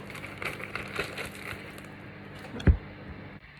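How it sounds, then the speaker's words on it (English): Crushed digestive biscuits are tipped into a bowl for a strawberry cheesecake base, with soft crumbly rustling and crinkling throughout and one sharp thud near the end. "we can put our smashed up digestives into a bowl"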